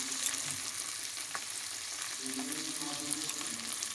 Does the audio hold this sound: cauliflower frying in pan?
yes